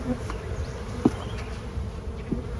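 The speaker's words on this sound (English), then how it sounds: "With the amount of bees that are in it" Honey bees buzz in a steady hum around a hive, near and continuous, with a few individual bees droning past close by.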